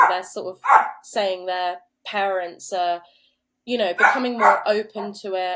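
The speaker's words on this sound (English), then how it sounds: "That's my dog." A dog barks loudly and repeatedly close by, sharp yelping barks cutting in and out while a person keeps talking over them.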